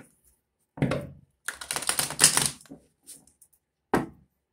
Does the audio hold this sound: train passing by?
no